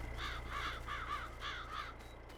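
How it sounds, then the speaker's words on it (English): Crows caw repeatedly in Farming Simulator, a run of five or six harsh, evenly spaced calls over a steady low engine drone, fairly distant and moderate in level. "Come on, crows, out of the way."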